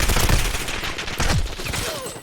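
Stun grenades go off in rapid succession during a squad battle royale video game, a dense, loud burst of overlapping bangs and crackling gunfire-like blasts with no pause between them.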